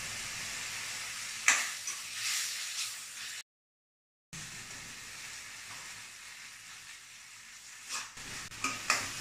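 Cashews and melon seeds frying in a wok, giving a quiet, steady sizzle and hiss with occasional stirring scrapes and brief clinks, broken by a short gap of silence.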